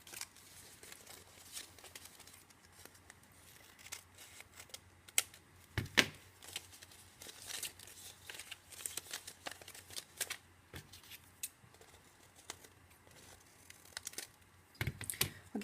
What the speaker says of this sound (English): I've spent a little time trimming up my edges